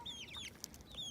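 Chickens in a backyard coop cluck and chirp softly in short, high-pitched calls, a few overlapping birds close by against quiet background noise.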